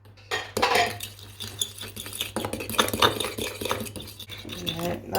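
Omelette eggs being mixed in a bowl with cutlery, irregular clinking and scraping strokes of metal against the dish, close and fairly loud, with short pauses between bursts.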